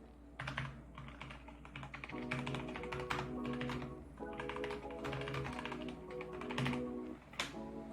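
Computer keyboard being typed on to enter a git commit command, a close, steady run of rapid key clicks with a few heavier strokes, over a faint steady electrical hum.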